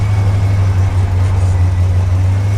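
A car with a welded differential creeps through a slow U-turn on a street, its engine running as a steady low hum with no talk over it.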